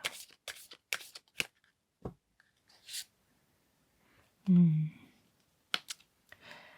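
Tarot oracle cards being shuffled and handled, heard as a few soft, quick riffling and slapping bursts with scattered light clicks in a quiet room, fairly faint overall.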